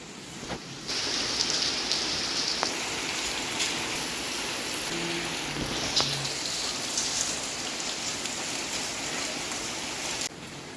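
Steady, heavy rain pours down continuously, a dense even hiss with no voices.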